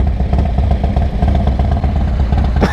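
A Yamaha MT-09 SP motorcycle engine runs loud and close with a steady, throbbing mechanical rumble, a brief sharp sound near the end.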